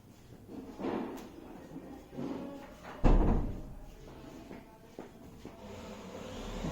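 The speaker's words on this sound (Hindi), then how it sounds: "ये जो आवाज आ रही है मैं थोड़ा बंद करती हूँ दरवाजा।" A door is pushed shut indoors, with a faint shuffle and rattle leading to a single firm thud partway through, then quieter handling sounds after it.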